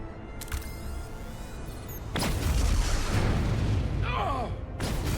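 A warp core detonation in a video game bursts out as a sudden deep boom after a moment of low rumble, followed by a sustained heavy roar and a second crack near the end.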